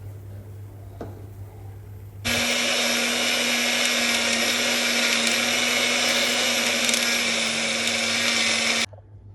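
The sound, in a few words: mixer grinder grinding dry fruits with water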